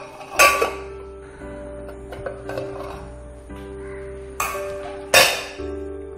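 A metal lid clinks down onto a cooking pot of Palakkad rasakkalan, a yogurt-based moru curry, with a few sharp clattering hits among softer kitchen clinks and a low steady hum.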